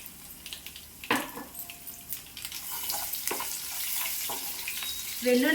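Ivy gourd frying in oil in a pan on a low flame produces a continuous bubbling sizzle, with occasional stirring scrapes and utensil knocks close by.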